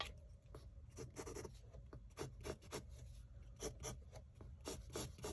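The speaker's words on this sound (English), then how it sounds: "So we can erase these guidelines" Pencil guidelines being erased from paper on a shape drawing, a steady close rubbing and rasping in quick repeated strokes with short pauses, alone with no talk.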